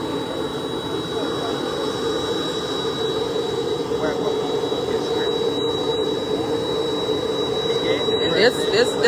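Steady roar of a parked jet airliner's engines after the Chief of Protocol boards at a presidential arrival in Liberia, loud and continuous with a high whine, with faint voices beneath.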